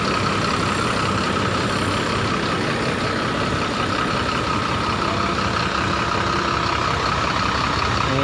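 A Mercedes-Benz OH 1626 bus engine running steadily, a loud, close, continuous heavy diesel rumble with no pauses and no talking.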